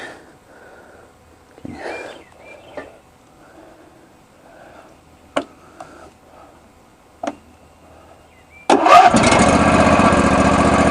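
A John Deere riding lawn mower with a 22-horsepower engine: quiet clicks and faint voice first, then the engine suddenly catches and runs loudly and steadily up close.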